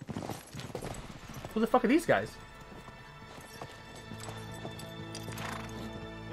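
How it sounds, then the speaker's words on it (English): Horse hooves clattering and horses whinnying in the video game Uncharted 3, heard under a man's loud excited speech and game effects, with a brief neigh near the start. "Wait, we got horse riders,"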